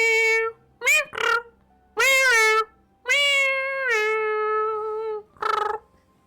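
A cartoonish cat meow sound effect triggered as a stream reward, several drawn-out pitched meows in a row with a final short one, loud and clear with no talking over it.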